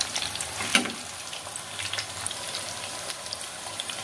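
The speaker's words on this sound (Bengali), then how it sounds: "আচ্ছা, পকোড়াগুলো ভাজা হয়ে গিয়েছে, আমি এবার নামিয়ে নেব।" Chicken pakoras crackle in hot oil with a steady, fine sizzle, nearby and moderately loud, broken by one brief clink early on.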